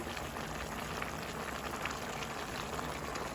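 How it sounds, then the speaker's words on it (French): Salmon and vegetables cooking together give off a soft, steady sizzle and bubbling hiss that continues evenly without a break. "Notre saumon est cuit. Voyez mes lovers. Voyez mes légumes aussi. Ils sont en train de cuire aussi."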